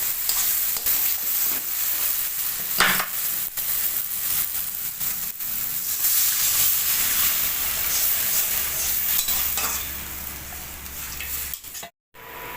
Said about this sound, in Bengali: মশলা কষে নিয়েছে, এবার গ্রেভির জন্য একটু জল দিয়ে দেবো।